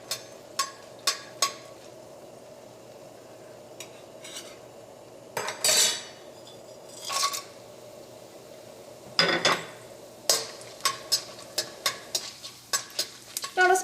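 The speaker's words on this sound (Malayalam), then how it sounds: "നമുക്ക് ചൂടായ എണ്ണയിലേക്ക് ആദ്യം തന്നെ നമുക്ക് ഈ സ്പൈസസ് എല്ലാം ഇട്ടിട്ട് നമുക്കൊന്ന് വറക്കാം" Dried chillies and spices fry in hot oil, a soft continuous sizzle broken by repeated sharp clinks and scrapes of a utensil stirring against the pan.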